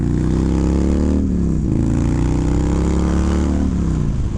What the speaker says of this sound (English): This is a 2006 wide glide that's been juiced up with a 96 and a 2-into-1 exhaust